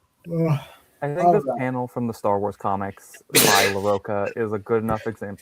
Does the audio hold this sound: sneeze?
yes